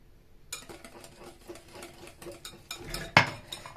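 Cake batter mixed in a bowl, with a quick run of light clinks and scrapes from the utensil against the bowl, close and rhythmic, ending in a sharper knock, no talk.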